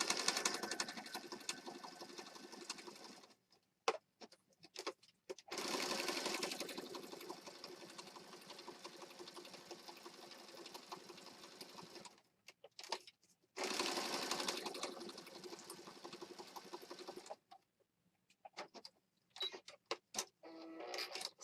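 A sewing machine stitches around the edge of a junk journal pocket, its rapid even needle chatter running in long close runs broken by short pauses.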